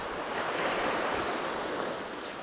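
Winter sea waves wash onto a beach in a steady, broad roar of surf with some wind noise against the microphone. The sound is close and continuous and carries no voices.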